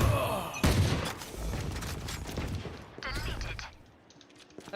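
Rapid machine gun fire in a Valorant match comes as a dense rattle of close, clicky shots. It is loud at first and tapers off, with a voice talking over the gunfire.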